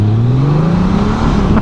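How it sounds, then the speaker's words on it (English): A Honda GL1800 Gold Wing motorcycle engine floored in first gear, loud and close, its smooth hum climbing steadily in pitch as it revs hard, alone without talk. "I can floor it in first gear and you can hear the Goldwing"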